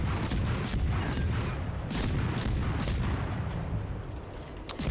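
Ship guns fire repeatedly in a naval warfare video game, an American destroyer gunboat trading shots: a dense, continuous barrage of loud booming salvos with rumbling bursts layered over one another and no talk.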